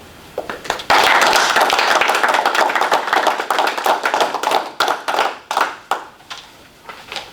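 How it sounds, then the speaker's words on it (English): Applause from a small group at a township board meeting, starting abruptly and continuing as close, loud clapping that thins into scattered claps before tapering off, with no talk over it. "I would like to ask the board to join me in a round of applause"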